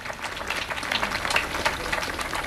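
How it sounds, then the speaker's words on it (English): Crowd applause for the fathers at an outdoor Juneteenth community gathering in Lake Oswego, a dense, steady wash of clapping heard from a moderate distance, with no voices over it. "So let's give a round of applause for the fathers."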